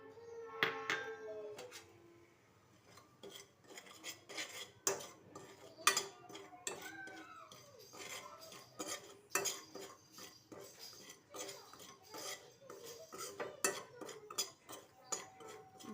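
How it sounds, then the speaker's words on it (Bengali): Semolina being lightly roasted and stirred in a wok, a metal spoon scraping and clinking against the pan in a steady run of close, sharp taps and scrapes. "কড়াইতে সুজিটা একটু হালকা করে টেলে নেব"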